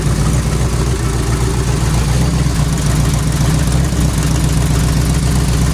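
A Mopar big block twin turbo engine runs steadily at idle, a loud, close, continuous low rumble with a rhythmic throbbing pulse and broad mechanical hiss.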